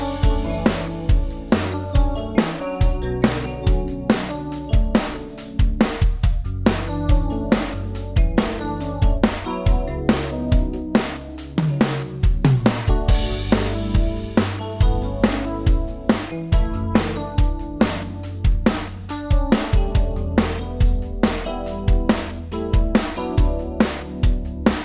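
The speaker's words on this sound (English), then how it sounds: "I have a standard FM electric piano sound here" A Yamaha DX7-style FM electric piano played through reverb and chorus, with steady rhythmic keyboard chords and notes running throughout over a full backing, loud and close, with no talking.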